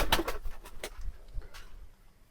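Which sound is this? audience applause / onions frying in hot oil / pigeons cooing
pigeons cooing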